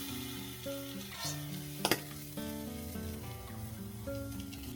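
Soft diced potatoes and chorizo sizzle in a pan as they are stirred together, a low continuous frying hiss with a brief scrape of the spoon, under quiet background music.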